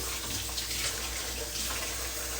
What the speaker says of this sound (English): And I'm gonna rinse these tomatoes.